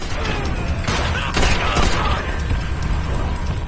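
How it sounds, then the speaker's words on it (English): A machine gun in World at War fires in a loud, continuous mechanical clatter of rapid shots, with a few heavier bursts standing out near the middle. "I do love me some MG though. It just downs people."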